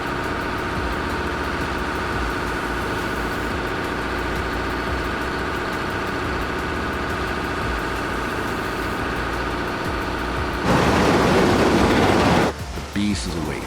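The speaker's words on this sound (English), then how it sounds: "The engine roars to life with a deep, guttural growl" A Caterpillar D11T dozer's engine runs with a steady, deep low rumble and vibration, building briefly into a louder, rougher burst near the end before dropping back.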